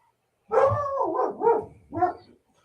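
A dog barks three times close by, the first bark drawn out and the next two shorter and spaced, with silence before and after.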